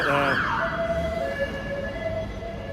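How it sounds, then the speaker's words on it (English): A wailing emergency siren rises and sweeps, then holds a steady tone nearby amid street noise on a London street. "here we are, London Sirens"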